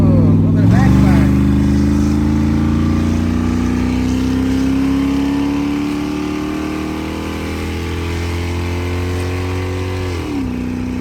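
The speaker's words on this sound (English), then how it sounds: "Now we get to see if it'll do a burnout." A car engine pulls hard in second gear during a burnout attempt, a loud sustained drone climbing steadily in pitch for about ten seconds before cutting off, with a brief backfire mentioned around the run.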